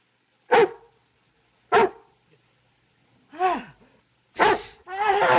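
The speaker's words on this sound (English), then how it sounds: "Dogs in the house." Dogs barking inside a house, several sharp separate barks spaced about a second apart, then a whining yelp and a final longer bark, clear and fairly close against an otherwise quiet room.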